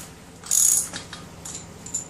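Sprocket bolts on an SR250 motorcycle are snugged down in a star pattern, with a short burst of ratcheting clicks followed by a few faint metallic ticks, close and alone.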